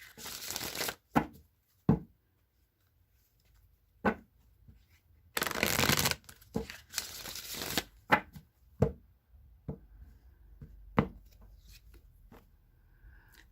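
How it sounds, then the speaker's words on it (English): A deck of tarot cards is shuffled close up in several quick riffling bursts, with soft taps and card slaps between them, in an otherwise quiet room. "So I'll be shuffling this deck 3 times."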